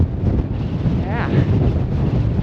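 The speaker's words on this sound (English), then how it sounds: "Getting some gusting winds, but it's all good." Steady, buffeting wind roars across the microphone with low rumbling gusts throughout on Longs Peak's Keyhole Route in February, and a brief faint tonal sound rises midway.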